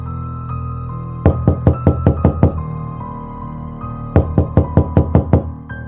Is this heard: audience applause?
no